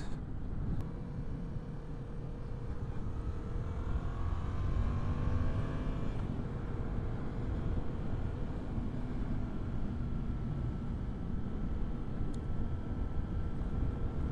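A 2014 Yamaha MT-07 motorcycle engine held at riding RPM, a steady, dense drone with a continuous low rumble and faint rising tonal traces, loud and unbroken throughout with no voices.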